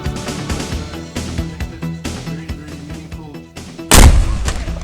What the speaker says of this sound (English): With the ceremonial firing of the cannon